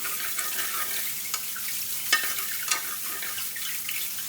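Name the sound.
mushrooms sizzling in a frying pan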